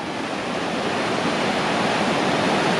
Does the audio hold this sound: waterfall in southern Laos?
yes